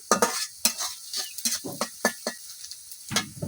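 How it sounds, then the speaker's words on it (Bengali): Onion and garlic frying in a pan for a tomato puti fish curry, heard as irregular scraping stirs of a spatula against the pan with brief sizzling bursts, close and fairly quiet. "এখন পেঁয়াজ আর রসুনটা ভালোভাবে ভাজা নিলাম"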